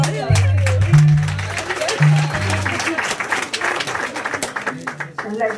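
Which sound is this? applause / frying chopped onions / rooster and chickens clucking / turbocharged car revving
applause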